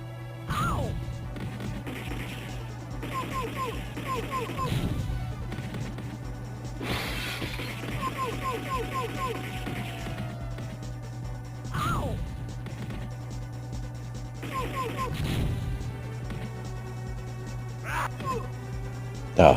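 Loud glass-shattering crashes in The Punisher arcade game, several sharp smashes spaced across the stretch over a steady electronic hum and busy game effects.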